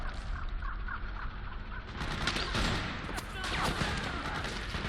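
Gunfire from the video game Metal Gear Solid 4 crackles through a dense, noisy battle soundscape, with sharp bursts rising out of a steady background roar.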